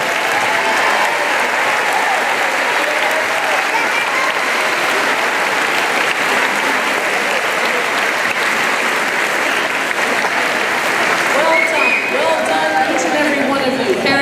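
At a middle school eighth-grade promotion ceremony, an audience applauds straight-A students with loud, sustained clapping from a large crowd, with scattered voices and cheers running through it.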